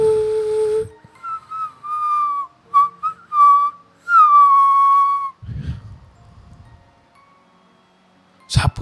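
A man whistles a short series of wavering notes, imitating someone whistling near a graveyard at night, with brief pauses between phrases and bits of talk and rustling around it.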